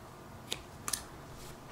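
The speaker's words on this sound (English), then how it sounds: "then I'll cut this yarn." Scissors snipping through crochet yarn: two or three short, crisp cuts close by, spaced within a second, over faint background hiss.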